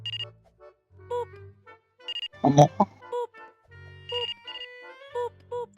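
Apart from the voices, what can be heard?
phone ringing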